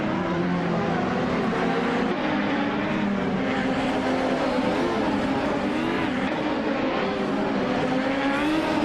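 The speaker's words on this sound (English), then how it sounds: "Kingle McCringleberry is leading the race in the 1995 Penske PC 23" Race cars, including a 1995 Penske PC 23, roar continuously in a dense, steady engine drone with wavering pitch, loud and unbroken for the whole stretch without any talking.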